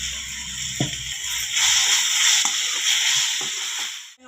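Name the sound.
tomatoes frying with chilli powder and salt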